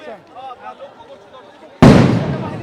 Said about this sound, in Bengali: আইন শৃঙ্খলা বাহিনীর পক্ষ থেকে সাউন্ড গ্রেনেড ছুটছে